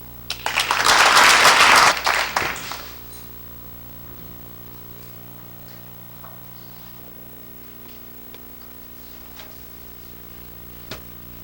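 An audience claps loudly for about two seconds to welcome Lieutenant Graydon Nicholas at a formal evening event, then the applause fades into a quiet, humming room.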